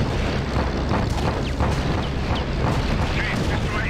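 Dense, continuous rumbling blasts and booming explosions in Secret Weapons Over Normandy fill the whole stretch, loud and chaotic, with muffled voices mixed underneath.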